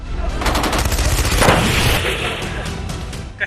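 Sustained gunfire in an Indian Army barrage on Pakistani positions, dense rapid reports rolling continuously with heavier bursts, loud and close throughout.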